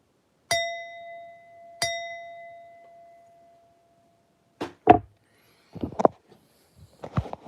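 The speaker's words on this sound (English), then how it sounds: "we gotta get a strike up the bell for Tyrone" A bell struck twice, each strike a clear ringing tone with a long sustained decay, followed by scattered clinks and knocks of handling.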